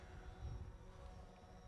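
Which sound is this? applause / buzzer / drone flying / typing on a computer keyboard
drone flying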